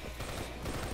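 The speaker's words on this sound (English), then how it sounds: "Why do people like to shoot off like that?" Dense, continuous gunfire from Call of Duty Black Ops III, Team Deathmatch on the Breach map, fills a short second of sustained rattling shots with no talking.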